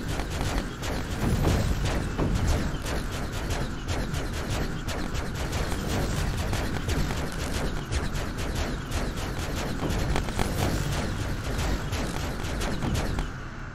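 Starfighter guns blaze in Starship EVO, a Hierax heavy star fighter firing at shields in a dense, sustained barrage of rapid shots that runs without a break at loud, close range.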